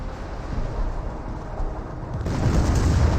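Artillery barrage from an N2 strike in Company of Heroes, a continuous low rumbling wash of explosions that swells louder in the final second, with no voices.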